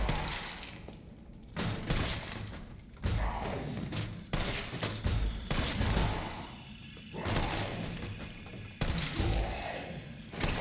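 Repeated weapon fire in the Resident Evil 3 video game, loud and dense bursts of shots with heavy thumps, spread across the whole stretch with no talking.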